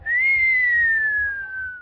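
A single sustained whistle blast, bright and steady with a slight rise then gentle downward glide, heard alone and close.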